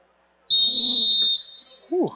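A referee's whistle at a high school basketball game gives one loud, sustained shrill blast of about a second, followed by a short rising squeak, likely a sneaker on the court.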